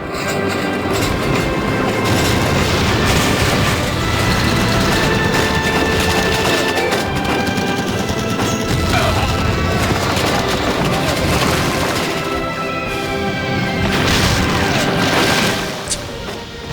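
Explosions from a Call of Duty level blowing up Lenin's statue in a burning city, a dense, loud wall of rumbling blasts and crackling gunfire that runs nearly unbroken, with talking over the top.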